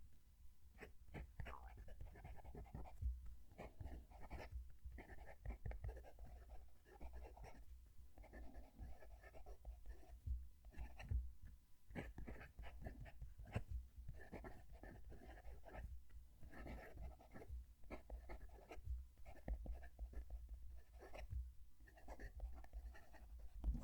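A Majohn P139 fountain pen writes on paper, with faint, close scratching strokes arriving in short bursts separated by brief pauses.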